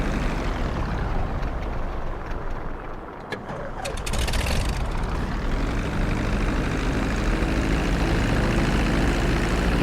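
Steady, loud airplane engine drone in GTA 5 as the plane approaches a runway for landing, dipping briefly before rising again and holding constant throughout.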